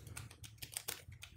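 Close, quick typing on a computer keyboard while entering text in editing software: a brisk, uneven run of crisp key clicks over a low background hum, with no speech.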